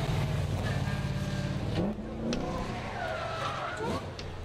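BMW 1 Series drift car at a Pure Drift event, engine revving with tire squeal during a slide, heard at moderate distance beneath a French commentator's voice.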